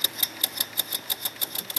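Rapid, evenly spaced mechanical ticks, about six per second, from a small engine running fast on compressed air, with a faint hum beneath.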